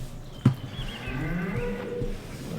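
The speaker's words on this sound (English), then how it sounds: "Actually, it sounds like cows." Cows moo in Farming Simulator 19 near a farmyard cow shed, a low drawn-out bovine call rising and falling over faint background ambience, with a brief thump near the start.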